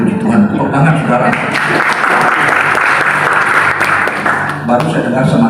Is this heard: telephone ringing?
no